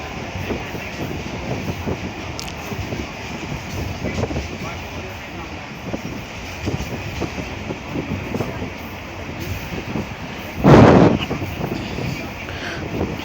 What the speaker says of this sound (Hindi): ट्रेन की आवाज़ भी आपको साफ साफ सुनाई दे रही होगी।